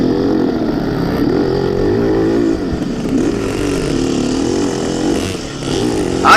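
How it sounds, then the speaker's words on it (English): Dirt bike engines drone steadily through a cross-country race, several motorcycles buzzing and revving together at mid distance in a continuous layered hum, with no talking. "I hear other bikes up there."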